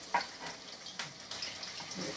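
Potatoes for aloo posto sizzle in a hot pan with black cumin while a spatula scrapes and stirs them in several separate strokes, close and moderately loud.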